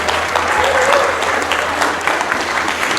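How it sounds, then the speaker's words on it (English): An audience at a debate on the existence of God applauds the moderator, Pedro Garcia, in a sustained, even wash of clapping heard from within the crowd, with a faint voice under it. "let's give a wonderful round of applause to our moderator"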